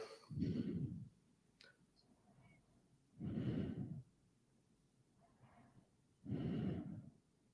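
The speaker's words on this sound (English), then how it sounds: "we hear you breathing in the mic" Someone breathes close into a microphone in three slow, heavy breaths spaced a few seconds apart, each a loud, rough rush of air with quiet gaps between.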